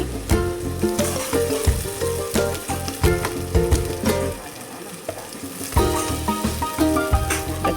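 Poha (flattened rice) frying in a hot pan, a dense continuous sizzle with repeated scraping and stirring strokes throughout, close and loud.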